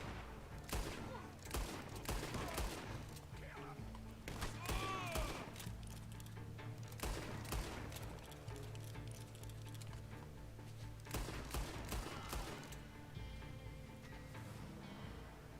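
Gunfire in Red Dead Redemption 2 Online comes in clustered volleys of sharp shots at moderate distance, with quieter stretches between bursts and some voices underneath.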